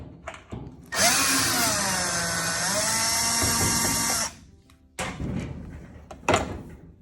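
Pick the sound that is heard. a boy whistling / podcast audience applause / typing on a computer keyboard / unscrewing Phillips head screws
unscrewing Phillips head screws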